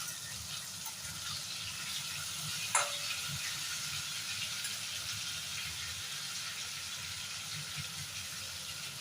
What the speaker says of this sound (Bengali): বেগুনগুলো আর কিছুক্ষণ ভাজতে হবে।